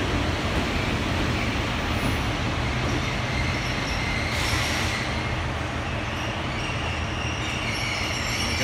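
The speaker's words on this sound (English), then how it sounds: "we got a freight train coming through from Westbury" A freight train rumbles steadily through Exeter St Davids station, a loud, continuous roar of wheels and wagons on the rail with no break.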